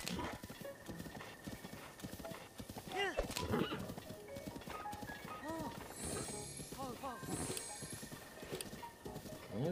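Horse hooves clip-clop steadily in the game The Legend of Zelda: Breath of the Wild, with occasional whinnies rising over the rhythmic gallop and game music, fairly faint and continuous throughout.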